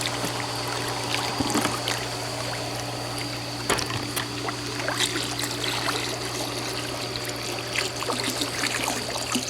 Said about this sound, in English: I'm just going to walk around the edge of the pool and just pour the bleach directly into the pool